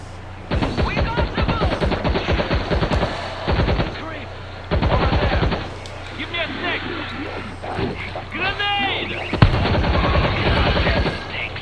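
In World War Z, set in Moscow, rapid bursts of automatic gunfire come in several volleys, mixed with shouting voices and game-like effects, loud and close.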